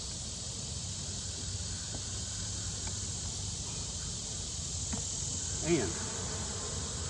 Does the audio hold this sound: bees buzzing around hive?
yes